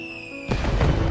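Fireworks at the Uji Fireworks Festival in Kyoto, shown in the anime Euphonium, burst in after a steady tonal hum, a loud broadband boom followed by crackling rumble.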